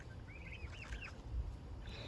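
A few soft chicken clucks in a quiet backyard flock, faint and fairly close against a low background hum.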